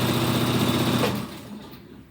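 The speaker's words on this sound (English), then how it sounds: "I'm sewing again." A sewing machine stitching elastic runs in a fast continuous whir for about a second, then slows and stops, leaving near quiet.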